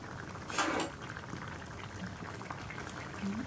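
Shrimp coconut curry bubbling at a full boil in a pot, a steady soft simmering texture with a brief utensil clink and scrape early on.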